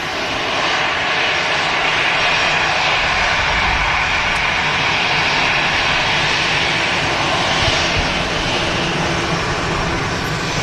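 At Manchester Airport, a jet aircraft roars loudly and continuously, its broad engine noise holding steady throughout with no talking.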